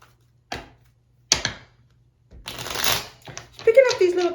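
A deck of tarot cards being shuffled nearby: several separate riffling, snapping bursts, with a longer rustling shuffle in the second half and a brief voice near the end.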